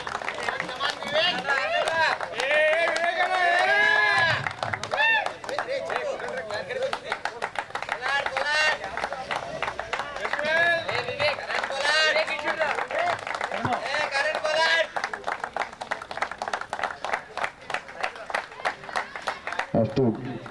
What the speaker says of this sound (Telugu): క్లాప్స్ కొట్టాలందరూ